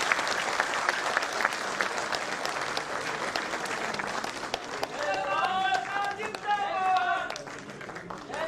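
Audience applause at a public ceremony in Rajasthan where PM-KUSUM solar pump approval letters are handed out, a steady wash of clapping from a large crowd lasting the whole stretch, with talk running underneath and a public-address voice in the later part.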